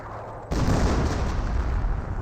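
An artillery barrage from the Company of Heroes 1 strategy game opens with a sudden heavy boom and rolls on as dense, continuous rumbling blasts and gunfire that stay loud through the rest of the moment.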